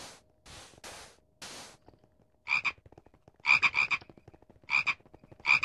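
Modded Minecraft mobs croak like frogs at night, loud repeated croaks arriving in clusters of two or three after a few bursts of hissing static, with no talking.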